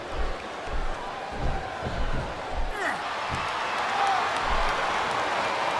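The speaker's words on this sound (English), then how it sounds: "Now the fans start to cheer for him." Wrestling arena crowd at a handicap match cheers and applauds in a broad, steady roar that swells toward the end, with a commentator's voice and a few thuds over it.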